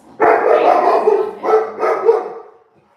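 A dog gives a drawn-out, loud bark or bay, close by, followed by two shorter yelping calls that trail off into quiet.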